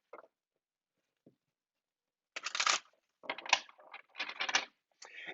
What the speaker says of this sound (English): So take your cards and let's shuffle them.